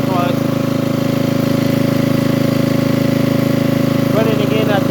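A generator engine idles steadily after a cold start, a loud continuous mid-pitched drone with constant vibration throughout, with faint background sounds near the start and end.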